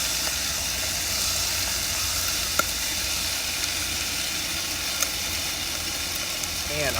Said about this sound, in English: Just a little stir.